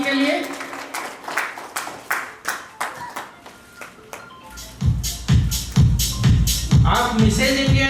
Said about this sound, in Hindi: जोरदार तालियां हो जाए आपके लिए